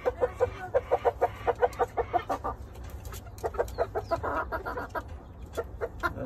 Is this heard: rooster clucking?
yes